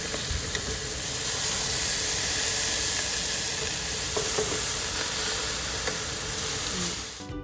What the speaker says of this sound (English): Look at that sizzle right there.